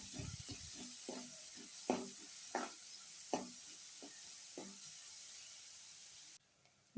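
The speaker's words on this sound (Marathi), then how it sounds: "कांदा छान असा लालसर होईपर्यंत परतून घ्यावा." Onion browning in a pan for a garlic-fenugreek dish, a steady soft sizzle running throughout with a few sharp scraping stir strokes, close by with no talking.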